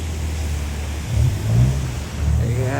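A car engine running close by, a low rumble that swells into two brief revs in the middle and then settles, with no talking.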